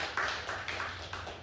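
A church congregation gives a brief round of applause during a Korean Sunday service; a handful of soft, scattered claps sound from a moderate distance, with no one speaking.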